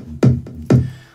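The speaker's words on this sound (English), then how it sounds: "on the intro, there's also this kick build-up playing" Two booming kick drum hits from an electronic track intro, each with a punchy low thump and a long decaying tail, spaced about half a second apart, loud and close with no talk.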